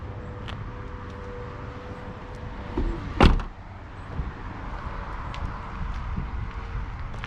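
A heavy car door on a 2006 Mercedes CLS 500 W219 shuts with a single solid thud midway through, heard over steady outdoor background noise.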